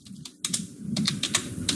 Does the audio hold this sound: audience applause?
no